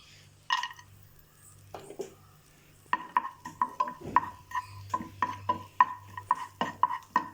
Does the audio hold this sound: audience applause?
no